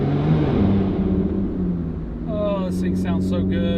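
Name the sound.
Lotus Evora GT engine sound while driving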